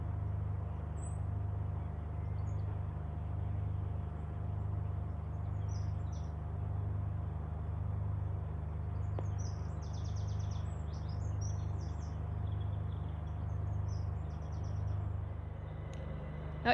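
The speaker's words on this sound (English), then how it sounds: "If you listen carefully, you can hear some birds singing." Small birds chirp and twitter faintly in a bare winter wood, brief high calls scattered over a steady low pulsing rumble of background noise.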